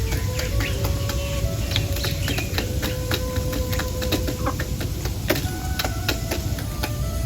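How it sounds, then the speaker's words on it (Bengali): Hens in a rural yard clucking around egg-laying, a steady run of short clucks and scratchy calls over a constant low background hum, with a sharper burst near the end. "এইটা ডিম পারতেছে"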